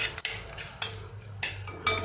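Ground coconut paste goes into a pan of sautéed onions, giving a few brief metal scrapes and clinks of a spoon against the pan, spaced out over about two seconds with a faint sizzle underneath.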